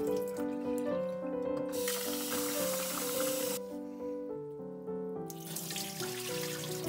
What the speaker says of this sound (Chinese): 2小时后，把米清洗两遍。